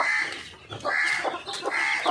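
Chickens at a home poultry setup in Thrissur, giving loud, close clucks and honking calls in repeated bursts with brief gaps between them and no talk.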